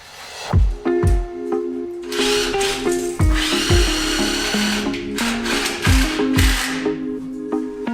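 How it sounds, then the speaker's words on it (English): A power drill whines and bites in repeated short bursts, grinding loudly as it works through metal while framing a school bus interior, with sharp pitch changes between pulls. "So the whole run the drill backwards is a good trick."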